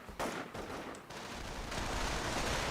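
Gunfire in the WWII strategy game Company of Heroes, a sniper battle: a dense spread of crackling shots and bursts that runs continuously and grows slightly louder toward the end, with no voices.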